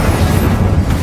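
Incendio fire spell in Hogwarts Legacy: a brief, heavy whooshing burst of flame with a deep rumbling low end, loud and close.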